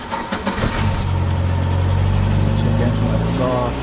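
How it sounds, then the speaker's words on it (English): A Chevrolet Cavalier under misfire diagnosis cranks and starts up close by, catching after a brief stutter and settling into a loud, steady idle. "so let's go ahead and start it up again."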